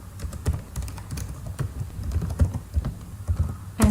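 Rapid, uneven keystrokes on a computer keyboard as a GST number is entered, close and moderately loud, with no talking.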